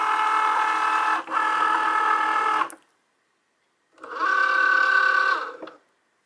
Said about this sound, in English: now I'm just going to slide that into the machine.